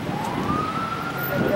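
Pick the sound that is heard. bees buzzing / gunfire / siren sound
siren sound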